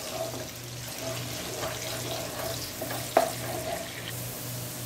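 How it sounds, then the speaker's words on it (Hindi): Finely chopped onion frying in oil in a pan for aloo pulao, a steady soft sizzle with faint scraping and one sharp utensil tap, close and alone without talk. "अब इसमें शामिल करूँगी एक अदद प्याज बारीक कटा हुआ, इसे हल्का ब्राउन करूंगी।"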